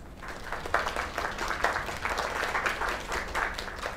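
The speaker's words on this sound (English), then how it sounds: "Another round of applause" A crowd applauds continuously in a video game, a busy, even patter of clapping that holds steady for several seconds.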